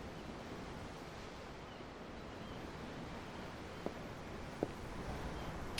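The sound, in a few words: ocean waves in the video game Tales of Arise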